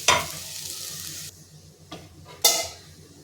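Spice mix and salt are sautéed with cooked spinach in a pan, as a spoon scrapes and stirs through a sizzle in a few strong, short bursts.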